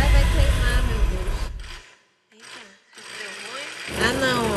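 An electric mixer whirs loudly while beating fondue ingredients spiced with hot paprika, cutting out briefly and pulsing back on in short bursts, with people talking over it.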